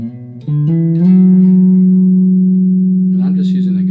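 An 80s Made-in-Japan Vox 3002 neck-through bass played through a guitar amp: a few quick plucked notes, then one long, steady, warm low note that rings and slowly fades, with a faint touch at the end.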